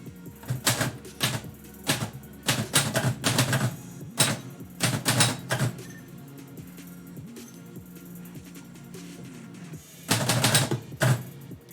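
Live typewriter poetry session: rapid bursts of mechanical typewriter keystrokes in uneven clusters, with pauses between runs and a final dense flurry near the end, close and clear with no voices.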